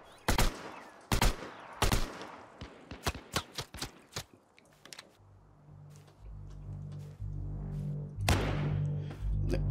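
Gunfire in the multiplayer shooter Last Man Standing: a burst of sharp, loud shots in the first half, followed by quieter scattered reports over a low rumbling engine-like drone, with no talking.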